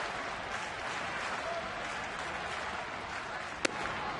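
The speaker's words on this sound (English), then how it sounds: "The crowd revved up." Baseball crowd in a ballpark applauding steadily, a dense patter of distant clapping and murmur that holds throughout, with one sharp crack near the end.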